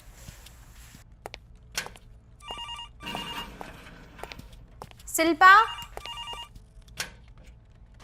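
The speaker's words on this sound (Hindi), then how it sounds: "ये फ़ोन भी इसी टाइम पे बजना था।" A telephone rings in repeated electronic bursts in a Hindi drama scene, mixed with footsteps and other noises while a voice speaks briefly.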